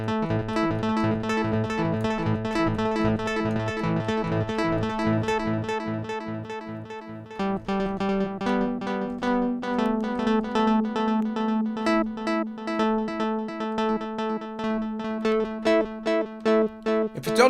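A KRILL virtual analog polysynth on an iPad plays a rhythmic, repeating sequence of bright synth notes, pulsing steadily up close and later shifting to a sustained lower tone under the pattern, with no talking.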